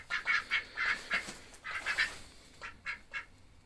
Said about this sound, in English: Alright, back in the duck house here.